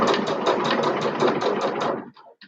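A sewing machine runs in a steady, rapid stitching burst for about two seconds while top stitching about half an inch in, then stops abruptly with a few faint clicks; no talking.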